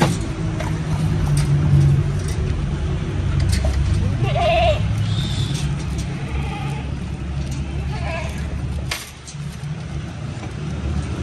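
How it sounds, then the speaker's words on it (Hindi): Goats bleating while being fed, several short bleats at middling distance over steady outdoor rumble and passing traffic noise. "बकरियाँ"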